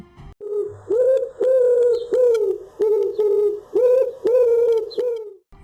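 A pigeon coos close by, about seven rounded, rising-then-falling calls in an even rhythm with short gaps between them, clear and alone with no other sound.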